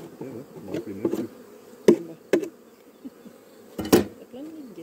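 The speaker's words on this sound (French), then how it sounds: "T'as plein de mille guêpes." Wasps buzz around beehives at an apiary during a transhumance move in the Drôme, a close droning swarm with several sharp loud passes near the microphone and occasional knocks.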